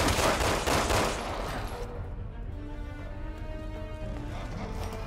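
Enemy gunfire aimed at the player in Resident Evil 6: a loud burst of rapid machine-gun fire for about two seconds, then it drops to a quieter, steady background rumble.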